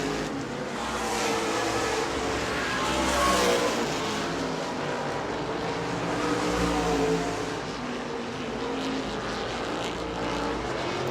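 Late model race cars thunder down the front straightaway at New Smyrna Speedway, a loud sustained engine roar that swells and eases as the field passes.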